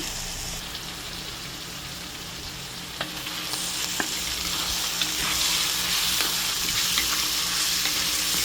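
Tomatoes sizzling and frying in a pot while being stirred with a wooden spoon, a steady close crackle with occasional soft scrapes and knocks of the spoon against the pot, no talking.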